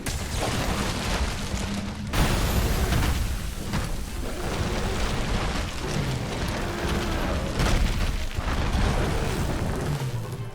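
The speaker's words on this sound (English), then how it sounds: "Bomb's going to be constantly dropping from it now" Bomb explosions dropped by Bazelgeuse in Monster Hunter World, a continuous loud barrage of booming blasts and crackling bursts layered over one another without pause.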